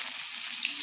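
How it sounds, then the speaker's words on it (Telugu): Onions, green chilies and curry leaves fry in oil with a continuous, bright, close sizzle, even and unbroken through the brief moment. "పచ్చిమిర్చి, కరివేపాకు వేసి బాగా వేగనివ్వాలి"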